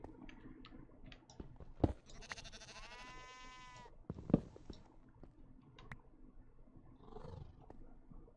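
Sheep in a video game bleat once in a long, wavering call, with soft thumps and ambient game noise around it and no talk.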